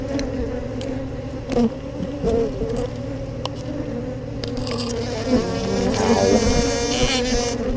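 Dense, steady buzzing of honey bees swarming close around an open hive in Texas, with a few louder wingbeats passing near and occasional knocks of frames being handled.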